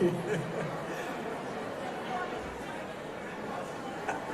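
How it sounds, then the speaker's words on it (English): Unruly crowd of guests chattering together at a special reception for Miss Fiesta and the Fiesta poster unveiling, a dense steady murmur of many overlapping voices with occasional faint laughs, moderately loud throughout. "I don't believe I've ever had a crowd this unruly"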